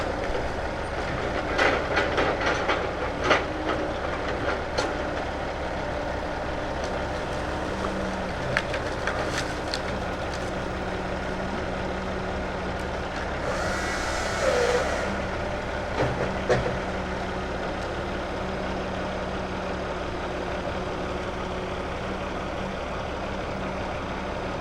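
A John Deere 748L skidder working in the woods, its engine droning steadily throughout with scattered clanks and knocks as it drags a load of logs, heard without any talk.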